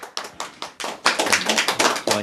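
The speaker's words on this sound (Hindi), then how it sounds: "जोरदार तालियां" Applause at a ceremony honouring the Chauhan brothers in Bijalpur, sparse individual claps at first, then denser, louder clapping from a small nearby group in rhythmic bursts.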